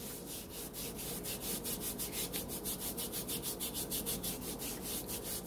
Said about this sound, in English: just scrub it on your hands like that